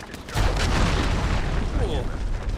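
A cruise missile strike in a Call of Duty match lands as a deep, rumbling boom that swells after a brief lead-in and rolls on heavily, with battlefield noise layered through it.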